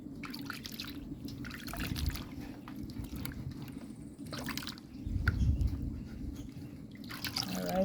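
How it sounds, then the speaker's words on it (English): Yam pieces being washed in water, with steady sloshing, dripping and trickling as they are rinsed, fairly quiet and close with no talking. "we're going to wash through this and wash them off again"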